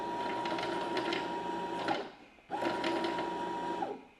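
A home sewing machine winds thread onto its bobbin in two steady motor runs, the first about two seconds long and the second shorter after a brief stop, close and fairly loud.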